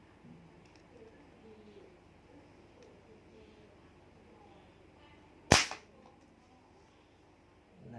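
A single sharp snap of a rubber-band slingshot being fired for fun, one close crack standing out against a quiet outdoor background.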